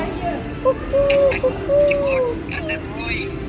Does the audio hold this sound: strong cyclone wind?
no